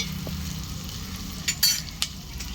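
Green chillies and garlic are sautéed in a pan with a steady low sizzle and a few clattering stirs of a utensil toward the end. It is close, with no speech.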